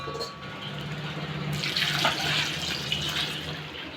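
Tap water runs into a pot of peeled potatoes in a home kitchen, a steady splashing hiss that grows brighter and fuller as the stream strikes the water, close and moderately quiet.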